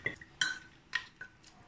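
A few separate clinks and knocks of ceramic cookware as meat is laid into the bottom of a 3.5-litre ceramic cooking pot, close by and quiet.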